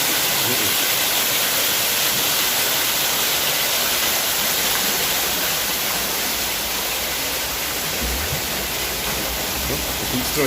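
Loud, steady rush of a waterfall in a park, a dense unbroken roar across the whole stretch, with a brief low knock toward the end.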